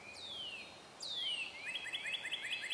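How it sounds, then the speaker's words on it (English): Early-morning birds chirp in clear, repeated descending whistles and quick tweets, some overlapping, heard fairly softly against a quiet outdoor background. "There's that one over there that's got that steady chirp to it."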